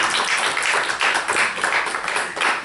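An audience at a formal French-language ceremony applauds, a steady dense patter of many hands clapping together for a few seconds without a break.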